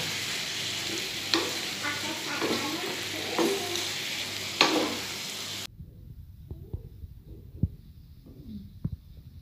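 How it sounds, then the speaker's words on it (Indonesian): Tuna is stirred in a pan with tomato spice paste, a soft sizzle with rhythmic scraping strokes, then the sizzle drops away leaving quieter scattered knocks and scrapes. "Kita aduk-aduk sampai ikan dengan bumbunya meresap dan bercampur menjadi satu"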